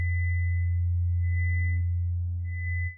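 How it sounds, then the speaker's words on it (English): Synthesizer sine wave, a pure, loud, steady low tone, with a faint high harmonic added and pulsing on and off above it before the sound cuts off. "If I do a really high harmonic, you see it modifies the sine wave."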